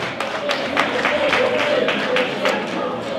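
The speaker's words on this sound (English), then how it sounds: "big round of applause" Applause from an audience at a school gala, a steady broadband wash of many hands clapping at moderate distance, with crowd murmur and voices mixed in throughout.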